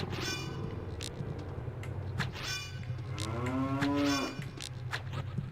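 Cow moo from the video game Ocarina of Time Master Quest, one long falling low call rising out of looping game music and clanking effects, fairly quiet overall.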